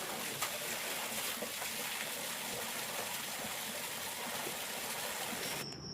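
Steady running water gushes continuously while clothes are being washed at home, a loud, even broadband rush with no talk, cutting off briefly near the end.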